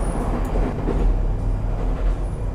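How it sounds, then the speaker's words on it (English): Ghost train from the video game The Ghost Train rolling in, a steady loud low rumble with rail clatter running throughout, no voices. "here comes the train"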